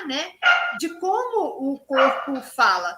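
A dog barks in a string of short, loud yips and whimpering barks close by, mixed with a person talking over them.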